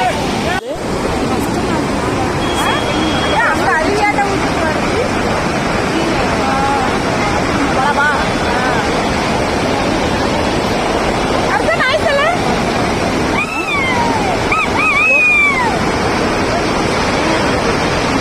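Water rushes loudly over the Kalingarayan dam in a steady, broadband roar, with people talking and calling out faintly underneath.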